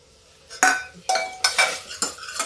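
Tomatoes go into masala cooking in a pan for a tuvar dal tadka. A metal spoon clinks and scrapes against the pan in several close, bright knocks, with a faint sizzle beneath.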